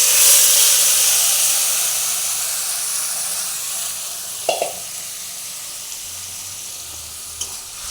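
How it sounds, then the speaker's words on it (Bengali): Spice paste hitting hot oil tempered with nigella seeds and dried red chilli: a loud hissing sizzle that slowly fades, with a couple of brief utensil knocks. "ফোড়নে দিয়ে কিন্তু এই পেস্টটাকে ঢেলে দিতে হবে"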